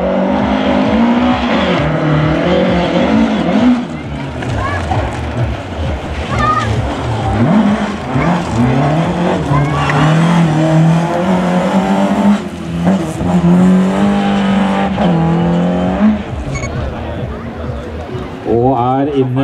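A race car climbs a hill course at a Norwegian championship hill climb in Vikersund, its engine revving and shifting through gears as it passes, while a commentator talks continuously over the engine noise.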